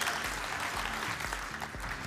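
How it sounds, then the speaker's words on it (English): Applause from the audience at an AI startup pitch competition at a summit in Malta, a brief burst of steady clapping heard from a moderate distance. "Round of applause."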